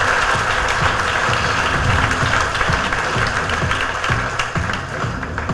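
An audience at an IAS academy felicitation function bursts into loud, dense applause, many hands clapping steadily throughout, close and full with no talk over it.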